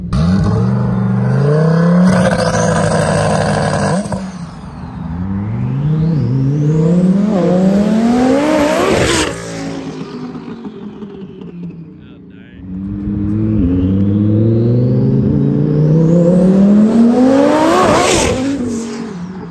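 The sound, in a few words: turbocharged sports car driving past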